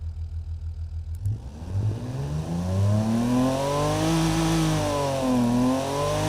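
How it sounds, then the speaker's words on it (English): A Jeep-style engine in the Automation car-building game revs up and down in several rising and falling sweeps, loud and close, with a rough mid-pitched drone and no talking over it. "If you were to tell me that this doesn't sound like a Jeep"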